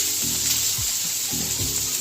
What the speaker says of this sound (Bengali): আর একটু নুন দিয়ে ভাজছি।